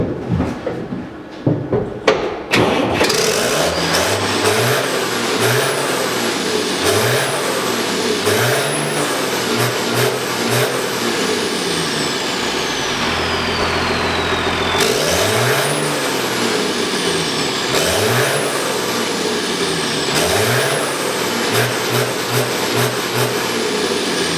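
A drift car engine starts with a few sharp bursts, then revs repeatedly, climbing and falling in pitch in loud, close, rhythmic waves, at a drift day at Tynagh.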